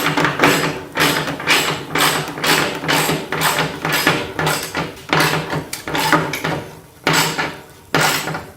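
A ratchet wrench tightens bolts on a DIY pig feeder: loud, close bursts of rapid clicking pawl strokes, repeated in regular rhythmic sweeps with brief pauses between them.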